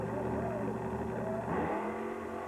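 Grave Digger monster truck engine roars and revs steadily at a USHRA event in Pueblo, a sustained loud mechanical drone with pitch rising toward the end, heard from aboard the truck.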